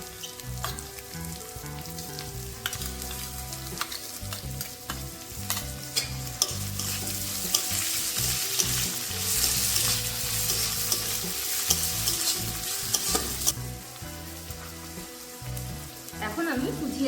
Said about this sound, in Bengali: এই মুহূর্তে আমি কিন্তু তাহলে আমাদের কুচানো পেঁয়াজগুলোকেও দিয়ে দেব।